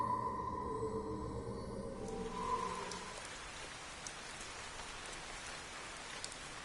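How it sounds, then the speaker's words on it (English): Steady rain patters continuously in a video game, with a humming tone fading out early and occasional louder drops standing out. "It was raining."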